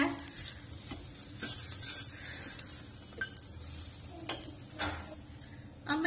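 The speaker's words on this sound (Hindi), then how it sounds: "मसाले हमारे भून चुके हैं। मसालों में तेल चुना शुरू कर दिया है।" Spices sizzle and fry in oil for a chickpea chole curry, with steady crackling and several scraping stirs of a spoon against the pan, close and fairly quiet, with no talking.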